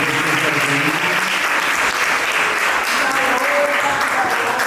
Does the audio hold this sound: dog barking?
no